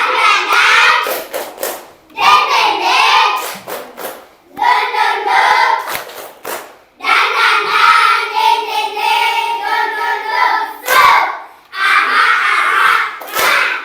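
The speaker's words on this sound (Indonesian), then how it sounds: "Tepuk semangat." Rhythmic spirit clap by a class of fourth-grade children, bursts of unison clapping and shouted chanting in several loud phrases with brief pauses between them.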